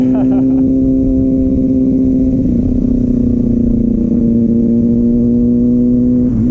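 A Kawasaki ZX6R motorcycle engine drones at a steady high idle and pulls slightly during a first-gear clutch up, loud and close, with a rider talking over the constant engine hum.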